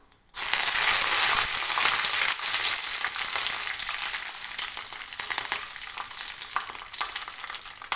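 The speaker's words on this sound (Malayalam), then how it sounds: "ഇനി ഇതിലേക്ക് ഒരു തണ്ട് കറിവേപ്പില കൂടെ ചേർത്ത് കൊടുക്കാം." A sprig of curry leaves hits hot oil in a Kerala erissery tempering, setting off a sudden loud, steady crackling sizzle that holds for several seconds and slowly eases.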